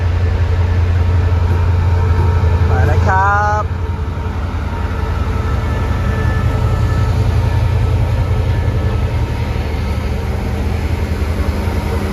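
Thai SRT passenger train of 15 cars passing close by, a loud continuous low rumble and rolling roar with a brief high squeal near the start.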